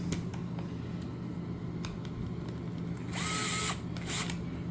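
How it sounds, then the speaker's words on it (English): Power drill driving screws into a motor mount kit, a short whirring burst near the end over a low steady hum, preceded by scattered small clicks and taps of parts being handled. "Get my screws started."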